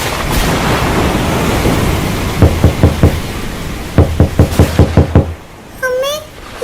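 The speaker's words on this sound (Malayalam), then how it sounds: "ഈ സമയത്ത് ആരാണ് വാതിലിന് മുട്ടുന്നത്?" Knuckles rap on a door during a rainy night, first a set of four knocks, then a quicker run of about seven, loud and close over a rain-like wash, followed by a short musical sting.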